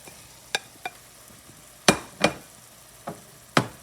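Beef and pork are added to sweated vegetables in a hot pan, giving several short, sharp sizzling bursts at irregular intervals with quieter crackle between them.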